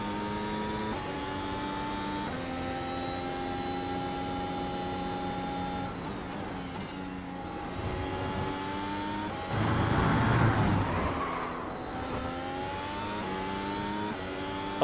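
A Mercedes race car in a racing video game, its engine a steady tonal whine that shifts pitch through upshifts and downshifts, with a rougher burst of noise midway, as if from wheel lock or a brush with the track.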